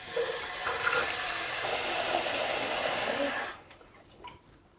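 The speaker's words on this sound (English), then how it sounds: "What we need to do first is to actually fill up the pan with water." Tap water rushes steadily into a cooking pan for about three and a half seconds, a loud, broad hiss that cuts off abruptly, followed by a few faint drips and clinks.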